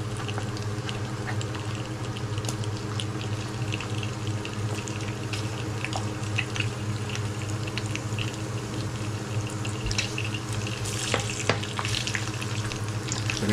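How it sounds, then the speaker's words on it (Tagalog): Food sautéing in oil in a pan as garlic and ginger go in, a steady close sizzle and crackle running unbroken throughout, with no talking over it. "Okay, gisa na tayo."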